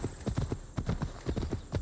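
Horse hooves clip-clopping in Assassin's Creed Valhalla, a brisk rhythmic series of hoof beats at moderate level, evenly paced and close, with a faint steady high tone in the background.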